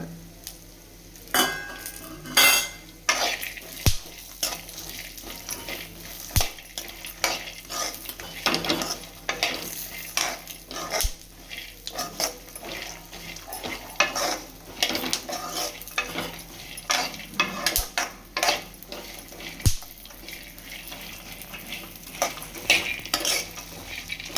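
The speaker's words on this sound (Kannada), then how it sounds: "ಚಟ್ಪಟ್ ಸೌಂಡ್ ಬರುತ್ತೆ ಸ್ವಲ್ಪ." Dry fruits roasting in a pan for laddu make a close, irregular run of crackles, scrapes and clinks of a spoon stirring against the pan, with sharp pops scattered throughout and no talking.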